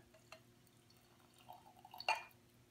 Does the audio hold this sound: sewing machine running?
no